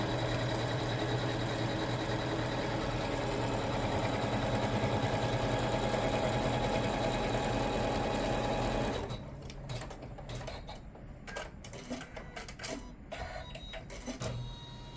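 An embroidery machine stitches a line on an in-the-hoop box bag, a fast steady mechanical whirring and needle chatter for most of the span before stopping abruptly, leaving faint scattered handling noises and clicks.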